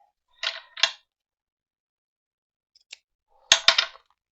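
Scissors cutting lace for a craft project, two quick crisp snips, a faint click, then another pair of snips, close and clear in an otherwise silent room.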